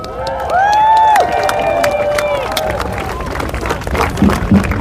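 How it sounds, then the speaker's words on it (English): Crowd at an outdoor protest rally in Washington, DC applauding and cheering, with whistles or shouts rising over the noise early on, then mixed clapping and babble continuing at moderate volume. "Give her a round of applause, please."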